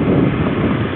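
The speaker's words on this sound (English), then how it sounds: "it's windy out here" Strong wind buffets a microphone outdoors on Treasure Island, a loud, rough, continuous low rumble with no voices.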